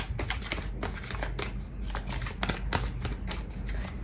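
Tarot cards handled and shuffled close by, a steady run of soft riffling flicks and crisp card slaps over a low room hum, with no talking.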